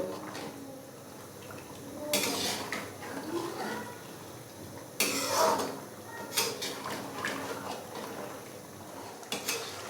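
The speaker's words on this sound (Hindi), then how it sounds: "ऑयल डालने के बाद अच्छे से मैं इसको मिक्स करूंगा और इसको भून लेंगे 5 से 7 मिनट के लिए मज़ीद" Beef karahi is stirred and fried with oil in a pot: metal utensils scrape and clank against the pan in irregular bursts over a low, steady sizzle.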